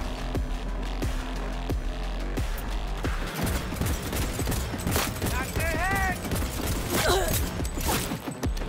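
Rapid gunfire bursts from a shooter in Cyberpunk 2077, sharp repeated shots and mechanical clicks in a cluttered mix, with a voice speaking over the fighting.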